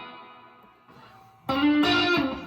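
An electric blues guitar played through an amplifier with reverb: a faint, ringing chord fades, then a louder, bright strummed passage sustains with a lingering tail.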